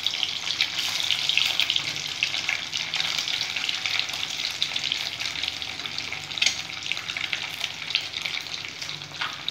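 Eggs frying in hot oil in a pan for an egg curry, a steady close sizzle with dense crackling and spitting throughout, no talk.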